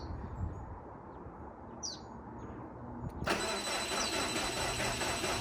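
Outdoors with a faint bird chirp, a turbocharged Subaru STI engine suddenly cranks and catches, then keeps running at a steady, rough idle, fairly distant and moderately quiet.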